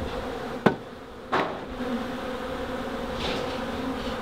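Honey bees hum in a steady, close, continuous drone around brood comb during a cut-out, with a couple of sharp knocks near the start and no talking.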